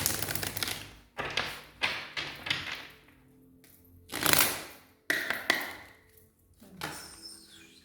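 Oracle cards from an Oracle des Miroirs deck being handled as three are drawn, giving a series of close, crisp slaps, taps and shuffling rustles in uneven bursts, with no talking.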